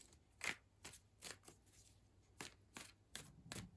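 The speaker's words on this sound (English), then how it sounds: "I'm trying to give them a good shuffle here" Tarot cards are shuffled in several quick, crisp bursts with short pauses between them, close and fairly quiet.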